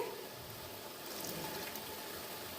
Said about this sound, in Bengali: আর বাটি ধোয়া জলটাও দিয়ে দিচ্ছি